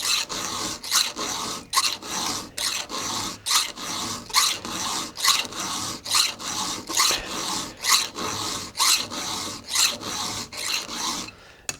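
A hand file sharpens the cutter on a badly damaged chainsaw chain, making a close, crisp rasping stroke repeated about twenty times in an even rhythm, with no talk.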